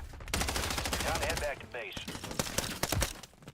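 Rapid automatic gunfire in the video game Warzone rattles in dense bursts, with a player's voice talking over the shooting.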